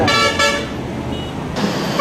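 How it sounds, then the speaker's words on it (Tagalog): Car horns honk in congested Metro Manila traffic: a loud, near toot opens, a pause filled with engine and road rumble follows, then another sustained horn blast sounds. "Kaliwat kanan, may bumubusina."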